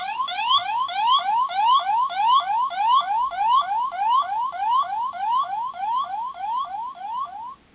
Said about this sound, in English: alert sound